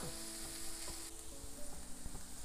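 Sirloin beef patty searing to a crust for a patty melt: a steady close sizzle with faint crackling pops, continuous throughout.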